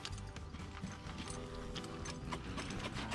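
A blond mare walks along showing herself off, her hooves clip-clopping in a faint, irregular patter with some soft mechanical rattles beneath.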